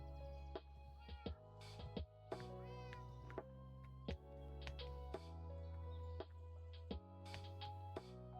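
A cat in the video game Minecraft meows over and over, short clear cries at an irregular pace, close and fairly quiet, with no one talking.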